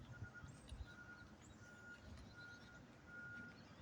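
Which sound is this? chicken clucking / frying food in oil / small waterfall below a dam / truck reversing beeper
truck reversing beeper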